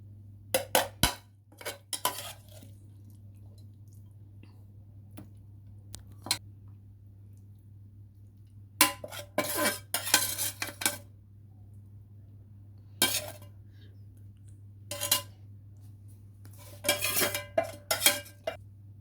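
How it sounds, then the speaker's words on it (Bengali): Fried chicken is plated onto a dish in a series of crisp clinks, scrapes and taps of utensils against the plate, arriving in irregular bursts separated by quiet pauses, close and fairly clear with a low steady hum underneath. "এবার দেখুন আমি প্লেটিং করব"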